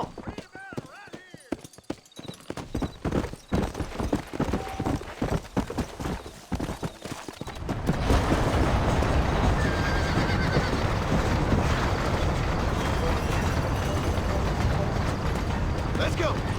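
A horse in the video game Red Dead Redemption, first clip-clopping in quick hoofbeats with a whinny, then breaking into a louder, dense galloping rush that runs on steadily.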